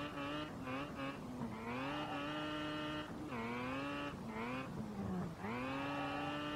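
A rotary-engined all-wheel-drive Mazda MX-5 drifts in a racing video game, its high buzzing engine note revving up and down in repeated surges with brief drops between throttle bursts, loud and continuous.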